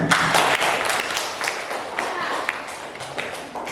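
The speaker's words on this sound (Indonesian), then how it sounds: "Sebelum itu tepuk tangan dulu." A ninth-grade class claps together in a classroom in an irregular burst of hand claps, fading gradually, with some voices mixed in.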